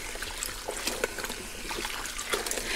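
Water trickles and splashes steadily as it is poured into a small portable washing machine, a continuous close liquid stream with no talking.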